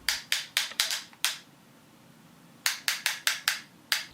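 Ratcheted joints of a classic 1984 Voltron Legendary Lions toy clicking in quick bursts of sharp ratchet clicks, with a short pause between two series of five or six clicks.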